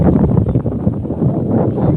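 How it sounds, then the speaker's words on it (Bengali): Gusty wind rising under a darkening sky ahead of rain, blowing steadily and close for a couple of seconds with no voices. "এই যে এইমাত্র বাতাস উঠল"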